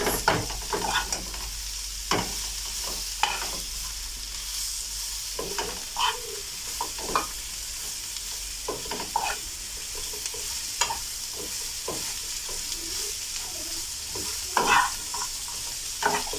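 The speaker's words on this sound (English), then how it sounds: "And then give it a quick mix." A spoon stirs breakfast ingredients frying in a pan, a soft steady sizzle under repeated scraping strokes and taps at irregular intervals, close and fairly quiet, with no talking.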